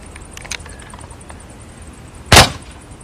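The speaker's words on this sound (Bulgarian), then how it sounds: "Ето видяхте при изстрел с преднопълнещо оръжие, което е било снаредено тогава с димен барут." A single sharp, loud gunshot from a muzzle-loading gun charged with black powder cracks out after a stretch of faint background noise, then quickly fades.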